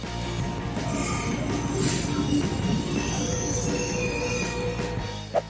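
A train rumbles past with rolling wheel noise and occasional high squeals from the rails, steady and fairly close.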